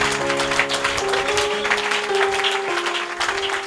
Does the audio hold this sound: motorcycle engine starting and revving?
no